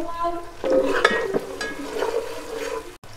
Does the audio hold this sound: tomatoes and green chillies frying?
yes